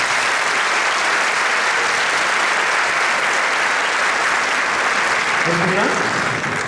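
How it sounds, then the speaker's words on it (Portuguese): Loud, dense applause from a crowd for an aerial silk acrobat, a sustained roar of clapping throughout, with a brief voice surfacing near the end. "Mais um aplauso para a Patrícia"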